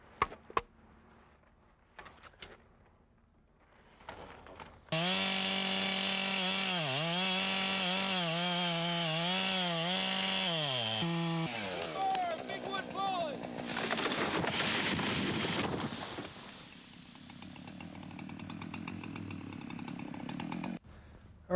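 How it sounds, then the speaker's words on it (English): A chainsaw with a longer bar finishing the felling cut on a standing tree outdoors, its engine revving up and wavering under load as it cuts, then cracking and rustling as the tree gives way, with brief talk before and after. "I'll use the longer bar to finish up the cut because I don't want to have to come around the back."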